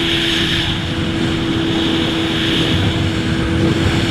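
A loud, steady Yamaha R6 sport motorcycle engine drone with wind rush, as heard close up while riding, constant and unbroken throughout.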